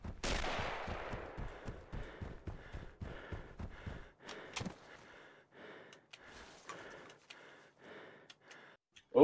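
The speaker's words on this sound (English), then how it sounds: "Someone's shooting from the hill." Gunfire in Red Orchestra 41-45 on the Mare Nostrum map, coming from a hill: a rapid string of sharp cracks that thins into scattered, slower shots, moderately distant, with a louder burst at the end.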